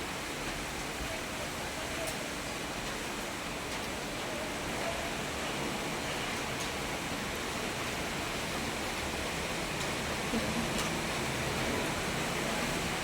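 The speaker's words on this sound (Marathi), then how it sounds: "एवढा पाऊस आला ना भयानक पाऊस आला आणि आत्ताही पाऊस येत आहे" Heavy monsoon rain pours down outside in a steady, dense, unbroken wash of noise that stays at even loudness throughout.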